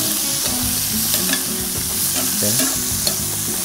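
Garlic and shrimp sauté in a pan with a loud, continuous sizzle and constant stirring, close up; a voice speaks briefly.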